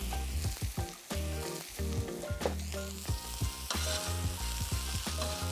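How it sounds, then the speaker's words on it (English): Mushrooms fry in butter with a little oil in a pan, a steady sizzle broken by repeated scraping and clattering as they are stirred and pushed around, close and fairly loud with no talking. "And then I'm going to add 50 grams of butter and just work them around on here."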